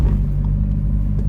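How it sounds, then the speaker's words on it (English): A C5 Corvette idles while rolling straight over a speed bump, giving a steady low rumble of engine and road noise with faint thumps from the suspension, close and even throughout. "Now we're gonna hit a speed bump, and we're gonna do it completely straight."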